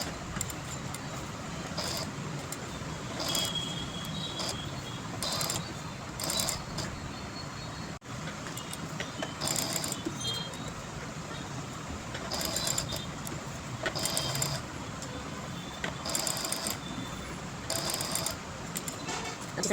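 A sewing machine runs in short stitching bursts while a spiral is sewn, its needle clatter starting and stopping every second or two. Faint mechanical whirring and clicks fill the gaps, close and fairly quiet, with no talking.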